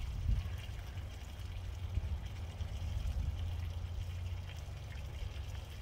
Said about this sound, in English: that's still quite a bit of water coming out of there.